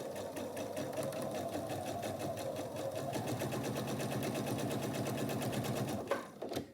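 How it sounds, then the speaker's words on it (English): A sewing machine stitches a quarter-inch seam on a quilt block with a fast, even mechanical chatter that runs steadily for several seconds, then stops with a few soft clicks. "I'll meet you back at the sewing machine, a 1/4 inch seam allowance right along here"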